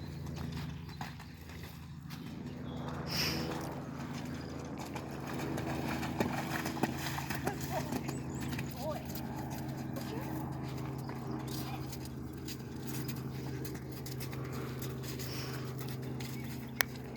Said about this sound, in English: we go through the puddle for the first time in canter